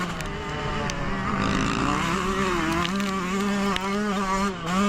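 A 2024 Yamaha motocross bike revs for a small practice launch, its engine reluctant to clear out. The close, loud, buzzing drone climbs and wavers in pitch for several seconds without a break.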